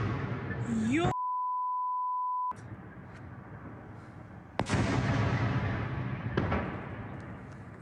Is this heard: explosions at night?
yes